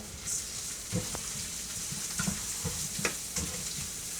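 Onions, garlic and one cup of Arborio rice sauteing in a pan give a soft, steady sizzle with occasional light scrapes of stirring, fairly quiet and close, with no talking.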